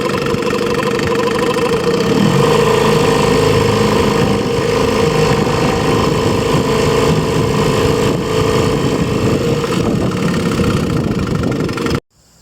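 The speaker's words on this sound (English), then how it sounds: "This is a 1955 Super Silent 6. It's the same engine as the KF5" A 1955 Mercury Super Silent 6 outboard engine runs steadily at a close, loud, even idle for about twelve seconds, then cuts off abruptly near the end.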